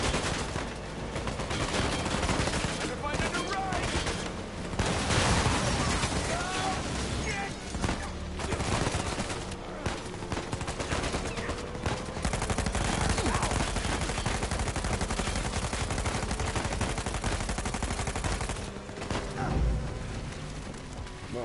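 Sustained gunfire rattles almost nonstop while driving a vehicle in Uncharted 4, dense bursts mixed with crashes and engine noise, loud and close throughout.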